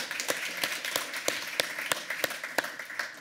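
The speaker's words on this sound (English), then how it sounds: "A warm applause for Pepijn Duivestein." An audience at a design talk gives a warm round of applause for a speaker, with individual claps standing out in a steady, moderately close rhythm and no voices over it.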